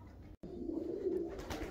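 Pigeons coo softly in a low, steady murmur from an enclosure aviary, with a brief gap partway through.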